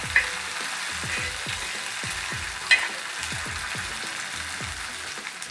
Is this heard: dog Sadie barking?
no